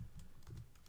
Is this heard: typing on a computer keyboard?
yes